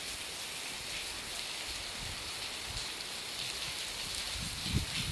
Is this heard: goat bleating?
no